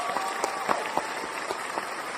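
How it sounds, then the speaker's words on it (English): Crowd applause in a basement hangout during a live show, a steady, fairly loud clatter of many hands with sharper individual claps poking through, no talking over it. "Clap it up again."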